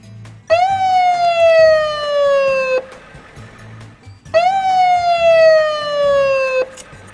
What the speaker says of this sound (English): Green ambulance.